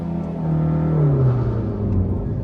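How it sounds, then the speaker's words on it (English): A 2019 Maruti Suzuki Baleno engine revs up from idle to 5000 rpm, the steady droning pitch climbing and holding high, loud and close with no talking. "So revving the motor. Okay, it revs all the way to 5000 rpm."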